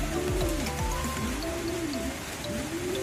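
A wet racing pigeon coos nearby in repeated soft, rolling calls over a steady background patter like rain.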